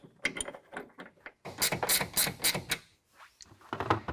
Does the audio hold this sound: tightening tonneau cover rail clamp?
yes